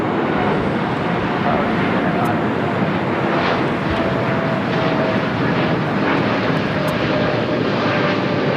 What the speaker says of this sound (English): American Airlines flight 1526 heading to Miami, a 787-8 Dreamliner, now rolling down